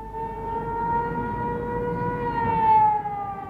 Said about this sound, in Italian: Questa è la sirena di una fabbrica vicino alla mia casa